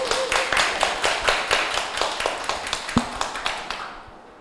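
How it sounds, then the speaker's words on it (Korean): Applause from a small audience at a literary talk event, with sparse, distinct claps in a loose rhythm that fade out toward the end. "큰 박수 부탁드립니다"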